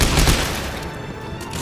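Gunfire in the sci-fi horror game Dead Space 3, a dense loud burst at the start that fades into a rumbling, noisy background.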